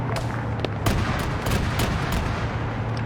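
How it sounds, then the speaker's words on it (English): Rapid 30 mm autocannon bursts crack out in a battlefield scene from Arma 3, a string of sharp, evenly spaced reports over a low rumbling background, moderately loud and with no talk. "Autocannon fire 30 mil from the south"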